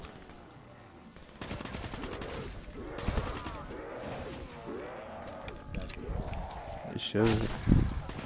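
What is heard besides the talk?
burst-fire gunshots in Black Ops 3 video game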